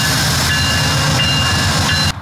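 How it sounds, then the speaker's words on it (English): A passenger train pulls into the station at Norfolk, Virginia, with a steady loud rumble, rhythmic clatter of wheels and a high whine, heard up close with no talking. "Here comes the train."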